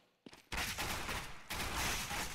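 Gunfire in Counter-Strike during a DreamHack Winter 2014 esports semi-final, heard as a brief shot then two sustained bursts of dense rapid firing, fairly faint in the mix.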